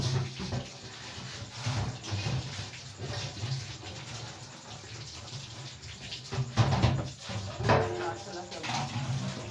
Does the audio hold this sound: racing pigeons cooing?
no